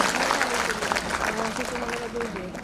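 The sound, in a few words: audience applause at Women's Day event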